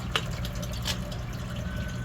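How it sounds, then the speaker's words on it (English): A sewage pump draws water out of a pit, giving a low, steady churning gurgle with a few brief splashes near the start, fairly quiet and without talk. "you can see the pump pumping"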